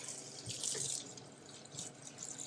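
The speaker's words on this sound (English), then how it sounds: "I'm going to put a little bit of cold water on it so it's not sticky." Kitchen tap runs cold water over freshly strained spaghetti, a steady close splashing stream that swells and eases over a couple of seconds, with no voices.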